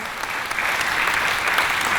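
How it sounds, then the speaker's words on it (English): Loud, sustained applause from an event audience thanking the production crew, an even wash of many hands clapping for two seconds with no voices on top. "A round of applause for the crew, guys."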